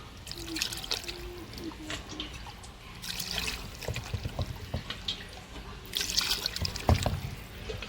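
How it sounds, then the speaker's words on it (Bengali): Water is poured and trickles into a pot of village-style country chicken curry, a soft continuous splashing in bursts at close range, with a voice speaking over it throughout. "এবার আমি জলটা পরিমাণ মতন দিয়ে দিলাম।"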